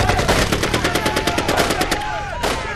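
Rapid bursts of machine-gun fire rattle off in a fast, loud, even rhythm in a game battle scene, then break off, and a final sharp blast follows near the end.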